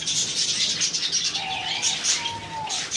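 Cockatiels and diamond doves in a bird shop chirp and tweet in a busy cluster close by, with some soft cooing and a brief wing flutter among the calls.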